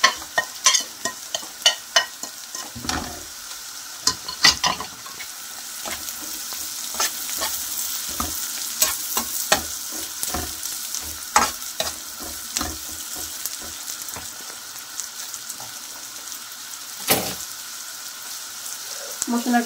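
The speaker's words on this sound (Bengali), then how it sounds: "মশলাটা তেলের মধ্যে ভাজা হয়ে গেছে" Onion, garlic and spices such as red chilli powder, turmeric, salt and coriander-cumin fry in hot oil with a soft, continuous sizzle, broken by frequent sharp scrapes and clicks of stirring, close up and without talk.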